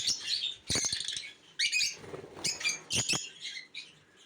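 Several budgerigars chirping and chattering in quick, overlapping bursts nearby, with brief pauses and a faint flutter, no talking.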